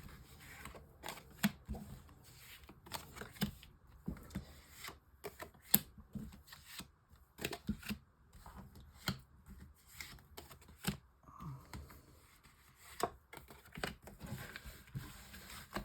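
Oracle cards being shuffled by hand before a nine-card spread, a quiet series of soft riffling and sliding bursts with brief pauses between them.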